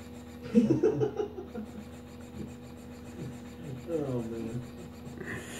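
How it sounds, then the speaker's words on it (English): A 52x CD-ROM drive spins inside a Compaq LTE 5280 laptop, giving a faint rasping whir with a brief rising, warbling tone partway through. No one speaks. "That CD-ROM drive almost like, sounds like it's saying you bed, bed, bed, bed, bed"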